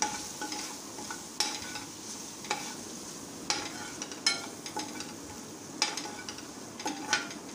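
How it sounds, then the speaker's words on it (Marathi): A spice mix of coriander, turmeric, chilli powder and garam masala is stirred in a pan, with quiet, regular scraping strokes about once a second over a faint low sizzle. "सर्व साहित्य छान मिक्स करून घ्यायचं।"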